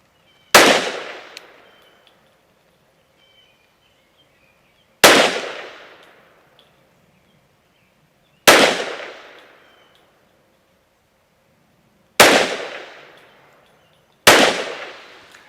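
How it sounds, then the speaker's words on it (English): Five single pistol shots from an M&P 22 Magnum firing Hornady 30 grain V-Max rounds at a range, each a sharp loud crack with a fast-decaying tail, spaced about three to four seconds apart. "So here we go with 5 shots from 25 yards."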